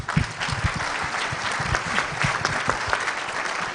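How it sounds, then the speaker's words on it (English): A conference audience at a sustainability event breaks into applause, a dense, steady patter of many hands clapping at a constant level throughout, with no speech over it. "So can we give a round of applause?"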